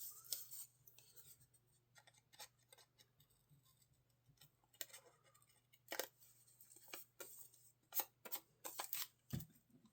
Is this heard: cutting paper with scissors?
yes